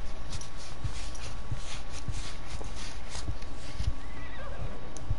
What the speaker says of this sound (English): I just heard my horse stop.